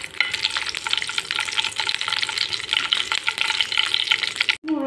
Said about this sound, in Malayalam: അതിലേക്ക് ആദ്യം ഈ മുളക് വറുത്തെടുക്കണം.